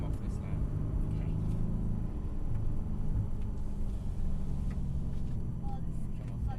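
A Mercedes circles a wet skid pan with a steady low engine and road rumble inside the cabin, and voices talk over it throughout.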